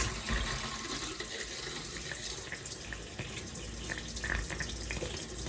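A hot water tap runs steadily with a hissing, gurgling rush of water, with occasional sputters from air in the pipe.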